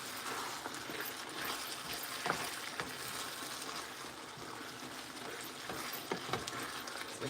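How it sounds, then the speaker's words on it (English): Clams, mussels and vegetable pasta sizzle steadily in a pan while being stirred, a close, continuous frying hiss broken by scattered scraping and clinking taps. "So we're going to give this a nice stir. We don't want it to stick."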